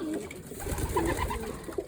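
Kirkpatrick breed pigeons coo close by in soft, low repeated phrases, a few rolling calls over about two seconds with no talking.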